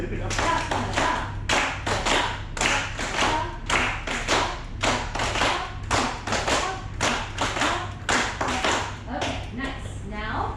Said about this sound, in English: We're going to clap the rhythm.